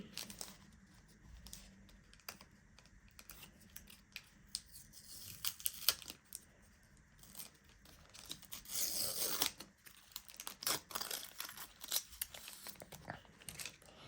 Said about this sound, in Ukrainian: давайте відкриємо та і подивимося